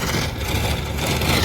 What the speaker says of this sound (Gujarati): પૂગ્યું છે ટ્રેક્ટર.